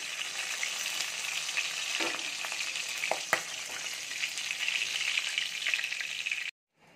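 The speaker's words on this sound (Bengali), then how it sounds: "মাছগুলো ঢাকা দিয়ে ভাজতে হচ্ছে, কারণ এত ফাটছে, ভয় লাগছে" Pieces of boal fish frying in hot oil in a lidded pan: a steady close sizzle with scattered sharp pops and spits, cutting off abruptly at the end.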